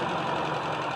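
A Toyota Kijang carburetor engine runs after tuning, a steady, even idle hum with a faint knocking texture underneath, close and continuous with no talking.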